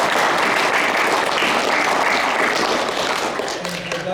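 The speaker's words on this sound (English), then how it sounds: "give the junior committee a big round of applause too" A crowd applauding steadily at a club prize-giving, dense clapping that fades slightly toward the end.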